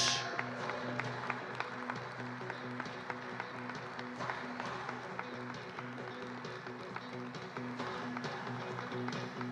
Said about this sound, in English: A big round of applause for Texas